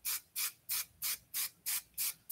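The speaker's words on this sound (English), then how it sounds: "A little bit of glossing spray." Glossing hair spray released in seven short, soft squirts at a steady rhythm, each a crisp airy hiss, close by with no talking.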